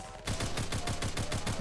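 Rapid automatic TAR-21 rifle fire in a capture-the-flag video game match, about ten evenly spaced shots in a steady burst after a brief quiet start, loud and close.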